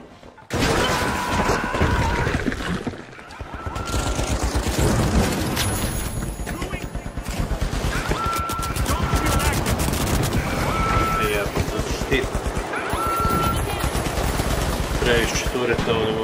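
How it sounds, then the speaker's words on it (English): Turrets in a video game fire in dense, continuous bursts with crashes and booms layered over one another, loud and sustained throughout, as someone talks over the gunfire. "Previše tureta ovdje gore."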